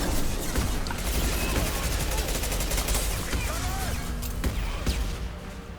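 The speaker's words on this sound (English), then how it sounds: "And more missiles." Missiles launching and detonating in the video game Mass Effect 2, heard as dense, continuous rattling gunfire and blasts with several sharp impacts, loud and close throughout the battle.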